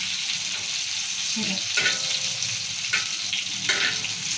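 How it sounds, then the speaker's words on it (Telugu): Stuffed eggplant fries in masala in a pan, with a constant close sizzle broken by several scraping stirs and turns of the vegetables. "ఇలా తిప్పుకుంటూ కూడా రాసుకుంటే వంకాయ మొత్తం చుట్టూ కాగుతుంది"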